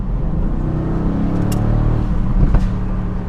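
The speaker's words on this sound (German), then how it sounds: "Man merkt sofort, wenn man leicht aufs Gas drückt" Mercedes-AMG GT Roadster V8 burbling under light throttle and pulling forward, a steady close engine drone with a brief rise in revs near the end, no talking.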